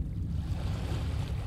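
Low, steady wash of water lapping at the base of a stone monolith in the Dagon visual novel game, a continuous rumbling surf with a soft breezy hiss and no distinct breaks.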